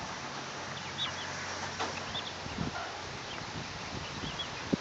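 Coturnix quail cluck softly and faintly with scattered short chirps, plus a few light thumps and rustles against a quiet outdoor background.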